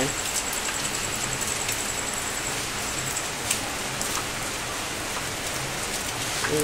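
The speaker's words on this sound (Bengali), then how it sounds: "দেখো বৃষ্টি শুরু হয়ে গেছে" Rain falls in a constant, dense patter on surfaces nearby, with a faint isolated knock or two and no talking.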